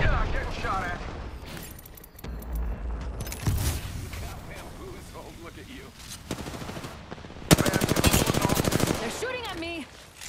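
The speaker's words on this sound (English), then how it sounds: "They're shooting at me!" Automatic and rapid gunfire in the battle royale game Apex Legends, loud bursts of shots and booms with a dense rattling volley near the end, mixed with in-game sounds and a player talking over the action.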